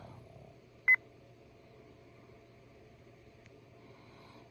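A single short electronic beep from a LETWESAF radar alarm unit as its probe pairs, brief and clear, against a quiet low hum.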